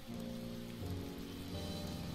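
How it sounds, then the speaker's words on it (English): Rain falling in the Boden District of the video game Atelier Ryza, a steady even patter of drops over a constant wash, heard alone with soft game music tones underneath. "Have we ever seen it rain in the Boden District? This is beautiful."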